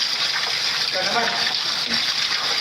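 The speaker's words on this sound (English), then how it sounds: "Yung pumpatak lang na tubig dito." Water flowing and dripping into a blue pool inside a cave, a steady close gushing rush with a voice talking over it.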